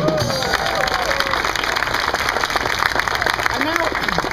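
Applause from an open-air street festival audience in Hamburg Altona, a continuous rattle of many hands with a performer's voice rising over it briefly at the start and near the end.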